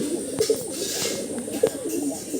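Andhra pigeons coo in a loft, several soft throaty calls overlapping close by at a steady murmur with no talk.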